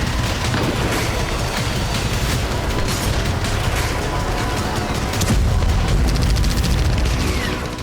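Battle in Sweida, southern Syria, with tribal fighters firing RPGs and guns: a continuous loud barrage of bursts and booms, denser and heavier toward the end.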